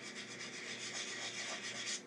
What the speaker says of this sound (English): Now I'm going to come in with a hard sanding block. I'm going to start with a higher grit. This is 1000 grit dry.